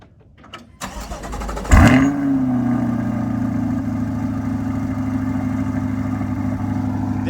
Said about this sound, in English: That is the sound of the stock exhaust at the C8 Corvette.